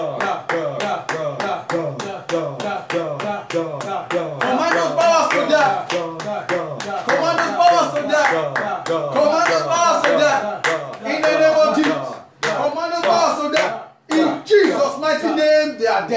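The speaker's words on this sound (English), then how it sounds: "I command you as I clap my hand." A pastor claps his hands repeatedly during a deliverance prayer session, sharp regular claps running throughout under continuous loud preaching and chanting.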